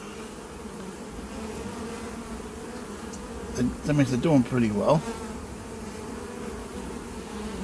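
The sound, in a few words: honeybees buzzing during a hive inspection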